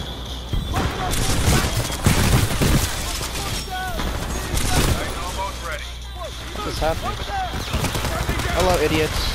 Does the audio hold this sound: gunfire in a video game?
yes